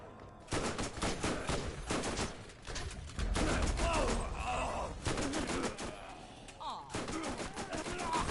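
Gunfire in the video game Borderlands, loud rapid bursts of shots in repeated volleys with short gaps between them, and a voice talking over part of it.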